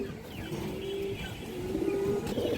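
Pigeons cooing at a pigeon farm, with soft low coos repeating a few times against faint background noise.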